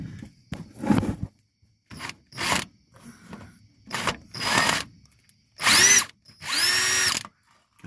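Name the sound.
power drill unscrewing screws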